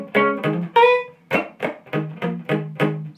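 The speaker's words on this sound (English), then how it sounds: "the funky guitar part that happens every once in a while" Funky electric guitar lick, played alone and close: a run of about eight short, sharply picked chord stabs in a choppy rhythm, one sustained ringing chord among them.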